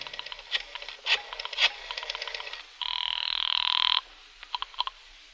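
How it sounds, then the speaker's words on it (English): An old-time radio drama telephone rings with one long, bright electric bell burst, set between shorter clicking and ringing bursts in otherwise quiet surroundings. "I made a phone call."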